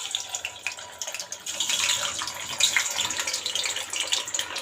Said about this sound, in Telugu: ఆయిల్ వేడవగానే మనం చికెన్ పకోడీ వేసుకుందాము